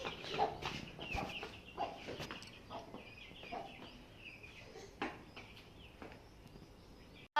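Chickens cluck repeatedly at a moderate distance in a rural yard, with short irregular bursts of clucking scattered across the whole stretch and no talking.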